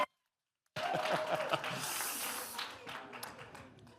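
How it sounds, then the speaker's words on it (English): A round of applause at a school district governing board meeting, starting suddenly after a short silence and carrying on as a dense wash of clapping mixed with laughter and cheering voices. "could we give Josh a big round of applause?"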